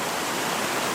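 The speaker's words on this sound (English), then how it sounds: "can hear me over the sound of the rushing water" A waterfall in the Appalachian Mountains in spring, cascading over a rock outcropping, roars as a steady, dense wash of rushing water, close and loud with no other sounds.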